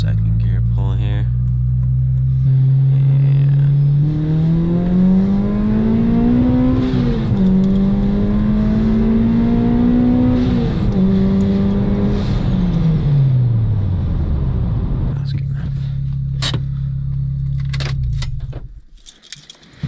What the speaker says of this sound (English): We'll do a second gear pull here.